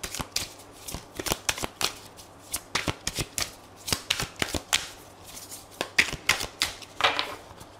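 Tarot cards being shuffled by hand, heard as quiet, crisp riffling and slapping bursts repeating in an uneven rhythm, close and alone.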